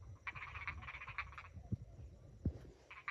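Khiat kratan frogs croaking in rice paddies after heavy rain: a steady run of rapid raspy croaks for about a second and a half, a pause with two dull thumps, then croaking resumes, close and clear.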